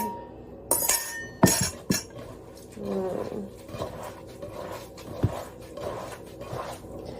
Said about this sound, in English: I'm gonna go ahead and crack 1 more egg